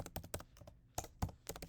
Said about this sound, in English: I was typing it in.